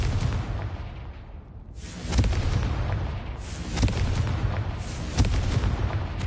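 Blasting-spell explosions boom in a wizard video game, several heavy bursts rolling one after another, loud and close, with a rumbling low tail and crackling debris between hits.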